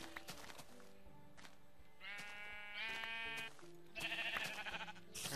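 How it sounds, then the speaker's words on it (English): Sheep in the video game Minecraft bleat repeatedly in short, loud, nasal calls over a layered game soundtrack, several overlapping near the listener. "These sheep are loud."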